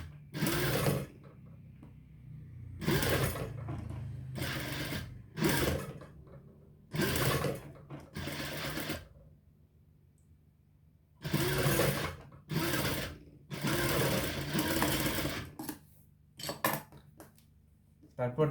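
A sewing machine stitches a shirt sleeve in repeated bursts, each run lasting one to two seconds with short pauses between, close and fairly loud, with occasional light clinks in the gaps.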